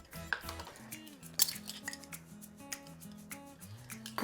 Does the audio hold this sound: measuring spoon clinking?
yes